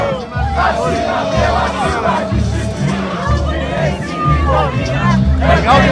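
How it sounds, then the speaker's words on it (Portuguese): Fluminense football supporters chant and sing together as a loud, rhythmic crowd after a heavy loss, with voices rising and falling in steady waves and background chatter mixed in. "Torcida mesmo perdendo, canta aqui ó, faz festa aqui ó"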